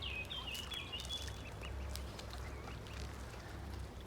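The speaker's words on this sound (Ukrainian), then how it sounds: "Давайте качечки їжте." Ducks quack repeatedly and close by while being fed, a busy scatter of calls over a low steady background rumble, no talking.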